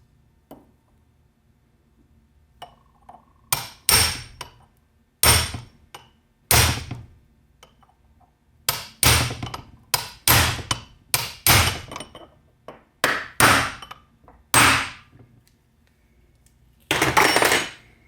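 Repeated metal hammer blows driving a dowel pin into a T5 World Class transmission shift fork on a support, sharp loud strikes in irregular bursts and clusters with quiet pauses between.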